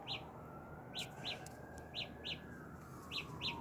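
Short bright electronic chirps from a Galaxy Buds earbuds locator repeat in quick pairs and singles over a faint background hum, sounding like a bird's tweets, moderately loud and close.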